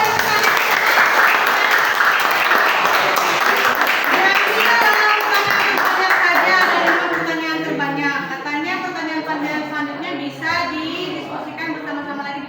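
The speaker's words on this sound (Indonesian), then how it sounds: "Ya, tepuk tangan dulu." A crowd applauds loudly, claps and chatter mixing at first, then the clapping thins out as children's voices take over.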